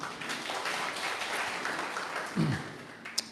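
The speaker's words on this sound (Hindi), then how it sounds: "सब बैठ जाएं एक अच्छी ताली के साथ।" A church congregation claps in sustained applause after a prayer, a steady dense patter throughout with a brief voice cutting in near the end.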